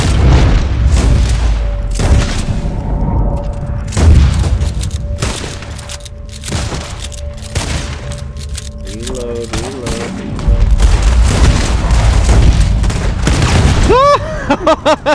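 Gunfire during a shootout over a wagon in Red Dead Online: loud, repeated shots and booming bursts fired in clusters across the scene, with players talking over it.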